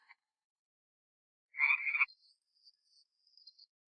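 A cartoon farm frog gives a single short raspy croak of about half a second, followed by faint high chirps trailing off into silence, close and clear with no talking.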